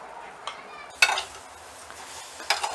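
Coconut, sugar and cardamom modak filling stirred in a pot, soft scraping under a faint low sizzle, with three sharp spoon-on-metal clinks spaced about a second apart.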